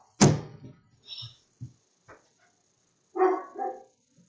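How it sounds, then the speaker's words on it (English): A pet dog barks indoors in short, sharp, loud bursts: one strong bark, a few quieter gruff ones, then a pair of barks near the end, with silence between. "My dog won't stop barking."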